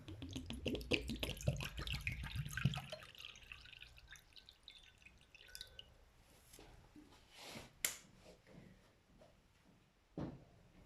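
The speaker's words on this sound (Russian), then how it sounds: "Воду я наливаю." Water poured into a container for a wax-casting candle ritual, heard up close as a burst of splashing and trickling for about three seconds, followed by scattered soft drips and small knocks; no one speaks.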